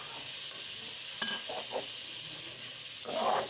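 Potatoes fry in a garlic-ginger masala with a steady, soft sizzling hiss and a few light stirring scrapes, fairly quiet and with no voices.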